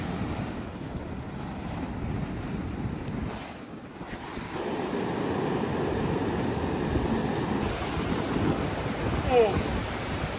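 Surf rolling onto an Algarve beach in Portugal as the tide comes in, a steady broad wash of breaking waves with heavy wind buffeting the microphone throughout.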